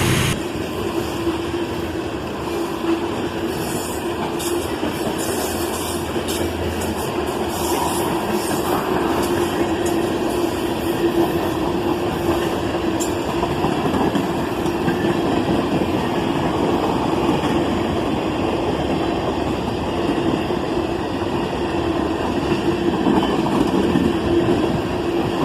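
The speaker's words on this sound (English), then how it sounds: "I love the difference in sound these trains make on these rails compared to my normal spot." Canadian Pacific, Norfolk Southern and BNSF freight trains roll past continuously with loud, steady rumbling and rail noise over the full length, with no talking.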